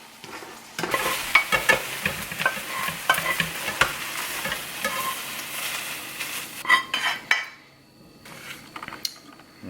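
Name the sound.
ground beef frying on the stove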